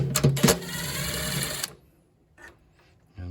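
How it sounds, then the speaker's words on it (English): A powered driver whirs loudly for about a second and a half, taking a 5/16 hex nut off a GE refrigerator water valve, then cuts out, leaving a few faint clicks of hardware in near silence. "we're just going to go ahead and take this 5/16 hex nut out of here"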